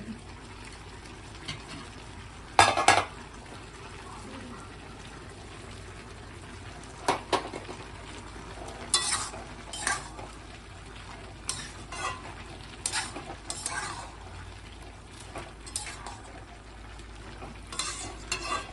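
A hilsa fish head fries in a pan for a Bengali puishak chorchori, keeping up a continuous quiet sizzle. Scattered clatters and scrapes of stirring come through, louder in short bursts, and no one talks.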